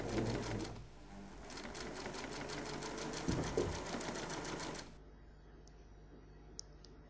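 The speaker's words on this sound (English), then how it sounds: "Top stitch 1/2 inch from the edge of the lower crown, sewing down the brim piece." A sewing machine top stitches the brim of a fleece beret, a rapid rhythmic needle chatter that runs close and steady for about five seconds before stopping, leaving quiet room tone.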